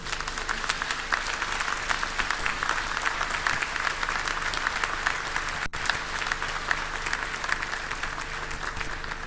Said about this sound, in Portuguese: é justo darmos esta salva de palmas ao nosso querido Padre Lapa